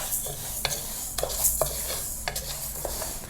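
Moong dal dry-frying in a pan, stirred with a spoon: a low sizzle runs under repeated scraping and clicking strokes, close and fairly loud.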